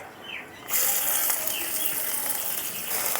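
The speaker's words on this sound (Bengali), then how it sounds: "এখন এর মধ্যে দিয়ে দেবো কেটে রাখা পেঁয়াজ।" Chopped onions dropped into hot oil with bay leaves and cumin for an egg omelette curry, giving a sudden loud, steady sizzle that starts partway in and continues evenly to the end.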